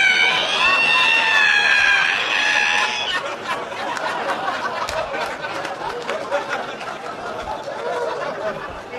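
A voice mimics a squeaky ironing board being opened with a high, wavering screech lasting about three seconds. A crowd's laughter and chatter follow.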